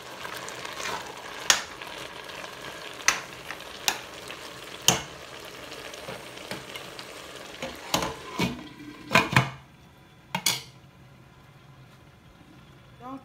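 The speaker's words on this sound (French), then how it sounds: "Et on laisse toujours cuire le sakasaka." Saka saka cassava leaves cook in a pot, giving a faint low simmer broken by scattered spoon knocks and stirring scrapes that bunch together toward the end.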